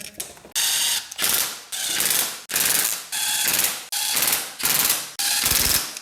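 Ratchet wrench tightening clutch cover bolts on a 2007–2008 Honda CBR 600, heard as a series of loud, close clicking bursts, roughly one stroke each second, with no talking.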